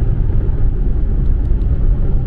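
Steady low engine drone and road rumble inside a moving car, continuous and even throughout with no talking.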